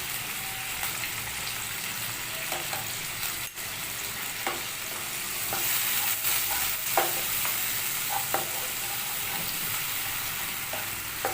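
A paste of ginger, garlic and turmeric with onions fries in a pan, sizzling steadily at low volume while a utensil scrapes and taps through it in irregular strokes.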